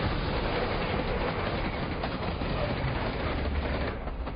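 A train rumbles steadily along elevated railway tracks as a continuous dense roar with faint rhythmic clatter, close and loud throughout without a break.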